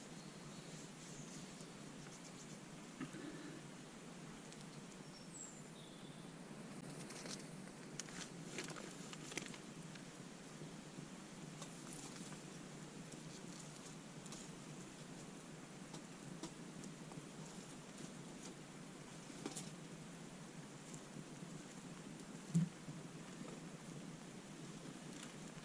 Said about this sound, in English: looks like the rain hasn't really amounted to much, just a bit of light spitting